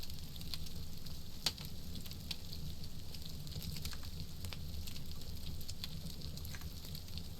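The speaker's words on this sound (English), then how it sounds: "You hear that meat sizzling?" Constant crackling sizzle with scattered sharp pops, steady and fairly quiet throughout, of meat frying on a hot grill in the game SCUM, with no voices.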